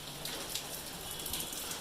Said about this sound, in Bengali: আর বৃষ্টি হয়েই যাচ্ছে।